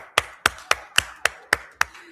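A single councilwoman clapping at a Flint City Council meeting, eight sharp, evenly spaced claps close to the microphone with no other voices.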